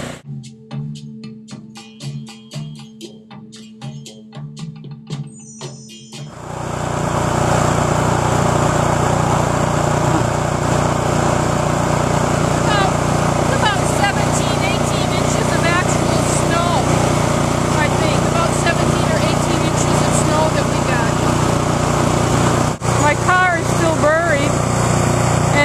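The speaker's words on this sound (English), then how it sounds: "It's amazing what a snow blower can do." A gasoline snow blower clears snow from a driveway during a blizzard in Bangor, Maine, starting abruptly after a few seconds and then running as a loud, steady engine drone with churning noise, close by, for the rest of the clip.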